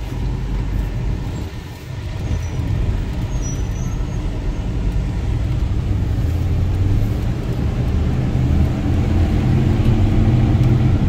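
1993 Ford F-150 XLT with a 5.8L engine out driving, a steady low rumble of engine and road noise heard from inside the cab that builds gradually as it gets under way.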